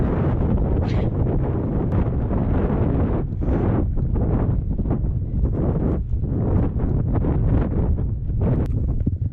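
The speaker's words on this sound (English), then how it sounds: "It's quite windy, don't know if you can hear me." Steady, loud wind buffeting the microphone on Eyam Moor during a run, a constant rumbling roar with brief gusty swells and no voices.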